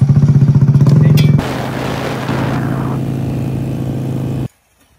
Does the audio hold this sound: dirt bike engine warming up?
yes